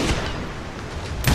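Rapid gunfire in the video game Gunslinger, a dense, sustained barrage of shots with a sharper burst near the end, loud and close.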